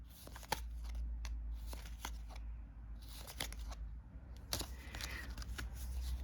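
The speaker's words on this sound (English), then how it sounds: "You guys just saw me shuffle that, and it just came out perfectly in order from 1 to 10." A deck of cards is shuffled in several quick riffling bursts separated by short pauses, close and crisp over a low steady hum, with no talking.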